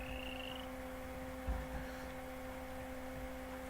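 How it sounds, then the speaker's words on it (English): Frogs in the video game Minecraft give a couple of low, short croaks close together over a steady electrical hum, with no voices. "These adorable frogs."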